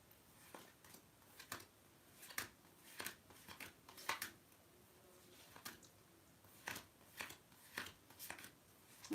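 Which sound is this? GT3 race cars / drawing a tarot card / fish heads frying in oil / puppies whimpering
drawing a tarot card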